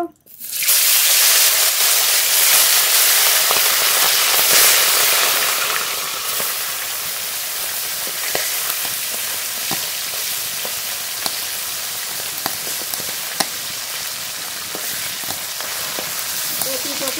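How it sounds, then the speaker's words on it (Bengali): Tilapia fish coated in salt and turmeric fry in hot oil, giving a loud burst of sizzling as the pieces go in, which then settles into a steady, slightly quieter crackle with occasional pops. "লবণ হলুদ মাখানো তেলাপিয়া মাছ ভেজে নেব।"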